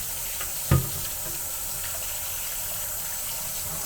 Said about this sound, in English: Stick it under the water, and usually just the water pressure alone is enough to get most of it.